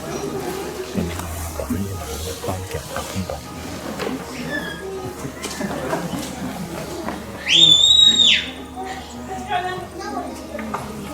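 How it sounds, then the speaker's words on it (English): On a Walter Peak Farm hillside in Queenstown, a handler gives a single loud, sharp right-hand whistle command to a sheepdog, sending her over a gateway. People talk around it, with outdoor background noise. "using her right hand whistle command to go over this gateway here"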